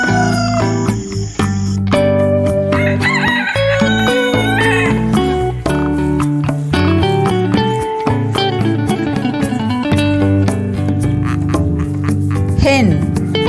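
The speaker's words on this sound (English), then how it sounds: "Rooster." Farm rooster crowing among a busy mix of harmonic animal calls, loud and close, with several overlapping cries across the stretch and no spoken words.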